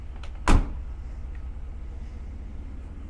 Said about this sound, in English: So let's close the rest of the doors